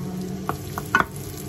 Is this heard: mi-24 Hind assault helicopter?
no